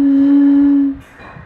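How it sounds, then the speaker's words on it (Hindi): Breath blown across the mouth of an empty glass bottle, producing a single steady low-pitched hollow tone held for about a second before cutting off, close and loud with no talk. "हम ये खाली कांच की बोतल इस्तेमाल कर सकते हैं और मुंह से हवा फूंक सकते हैं।"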